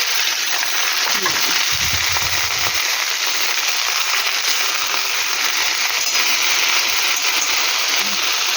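Sugar, tomato and okra frying in oil in a pan, a loud steady hissing sizzle throughout, with a brief clatter of stirring near the start.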